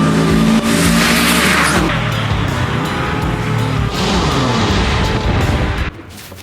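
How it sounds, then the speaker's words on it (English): A Division 1 Superkart of about 100 horsepower screams past at full throttle with squealing, skidding tires. The loud engine howl holds steady, then drops off abruptly near the end. "This is a Division 1 Superkart"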